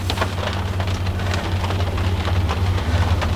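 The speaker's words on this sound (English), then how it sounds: "it's already dark. And it's raining." Steady rain falls at night, a dense continuous patter of drops on surfaces with a constant low rumble underneath and no voices.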